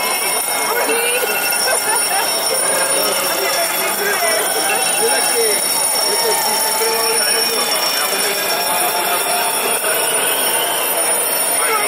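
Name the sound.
many alarm clocks ringing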